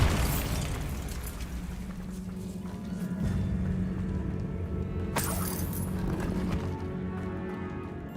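Spell explosion from the Bombarda charm in Hogwarts Legacy: a loud blast at the start fading into a rumbling tail, with a second sharp burst midway over a steady hum.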